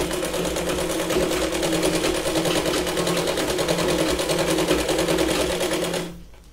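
A sewing machine runs steadily, double-stitching the front of a Punjabi dress toward the centre, a close, continuous rapid whir that holds for about six seconds and then stops abruptly.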